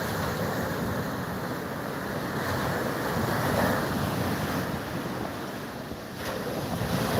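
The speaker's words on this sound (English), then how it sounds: "for a flat beach that we normally get, there's some pretty clean big waves, these ones" Big clean waves breaking on a flat beach make a continuous loud roar of surf, mixed with heavy wind buffeting the microphone, with no voices.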